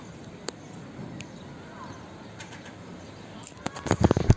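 Faint outdoor ambience with a few scattered taps, then a flurry of flapping wings and scrabbling thumps on a hard roof as a seagull lands nearby in Istanbul.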